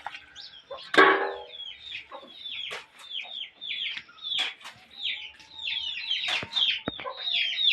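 A flock of chickens clucks and chirps continuously, with many overlapping short calls and a louder squawk near the start. No talking.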